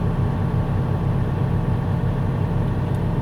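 A truck engine idles steadily while building air pressure, a dense, continuous low rumble that stays loud and even throughout with no voices.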